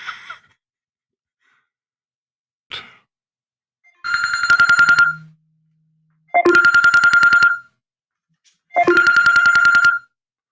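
A telephone rings in three long, loud bursts of electronic trilling with silent gaps between them, heard on air during a live call-in radio show, with a short breathy sound at the start.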